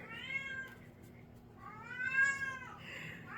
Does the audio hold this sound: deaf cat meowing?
yes